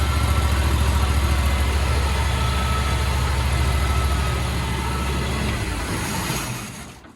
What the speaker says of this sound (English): Not too bad for a brand new motor out of a crate. Put some gas and oil in it and you run. Pretty quiet.